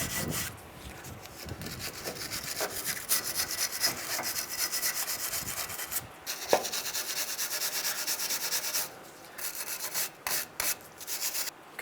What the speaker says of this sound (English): clean up where our new brake hardware is going to go